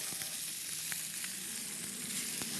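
Meat sears in very hot olive oil in a pan, giving a loud, steady close sizzle with scattered crackles and pops throughout, and no voices.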